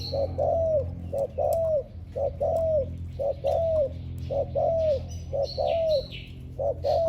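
An old decoy bird calling, a close, repeated series of short rising-falling chirped coos in a quick, regular rhythm, over a steady low background hum, with no talk.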